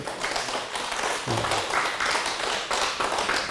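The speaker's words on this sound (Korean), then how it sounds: "우리 박수 한번 주세요. 하나님께" A church congregation claps for God during a sermon, a continuous, busy patter of many hands in a reverberant hall, fairly soft and even throughout.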